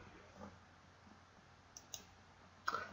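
A few faint, sharp computer mouse clicks while selecting an OK button, isolated taps over a quiet background, the last one slightly louder.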